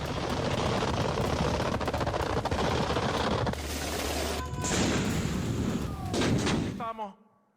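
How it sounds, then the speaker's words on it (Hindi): Venezuelan army guns fire repeatedly in rapid bursts, loud and continuous, with heavy booming shots that fade out near the end. "उस तरफ रुक करके वेनेजुएला की सेना तोप से गोले दाग रही है।"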